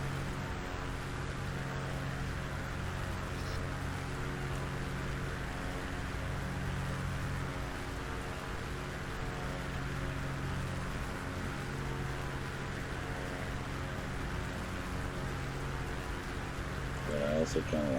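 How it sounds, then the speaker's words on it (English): A steady, droning propeller engine hum of a Maule M7-260C aircraft in Flight Simulator X, flying over the Alps, with wind rushing evenly beneath it for the whole stretch and a brief rise near the end. "Don't want it to overpower the engines and the sounds of the flight and the wind."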